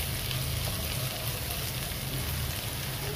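Vegetables fry in hot oil in a pan on a home stove, giving a steady, even crackling sizzle that stays close and continuous throughout, with no talking.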